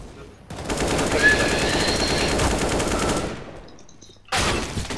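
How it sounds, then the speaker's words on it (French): Rapid automatic gunfire in a competitive Counter-Strike-style match, loud and sustained for about three seconds, then a short pause before another burst breaks out. "Ouais, et ça me tire dessus."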